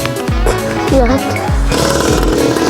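A motorcycle engine revs hard in close, throbbing pulses during wheelie practice, loud throughout, with a voice talking over it.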